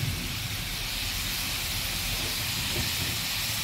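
Water and spice powders (cumin, coriander, dried chilli, turmeric) hitting a hot pan, a loud, steady, broad hiss of sizzling steam that fills the whole moment without pause.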